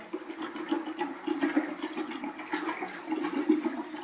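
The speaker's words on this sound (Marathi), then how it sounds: "हा ऐसा असा ताक वारायचा" Buttermilk churned by hand in a Konkan home to bring up butter for homemade ghee: a steady, continuous liquid swishing and sloshing, fairly close, with no voices.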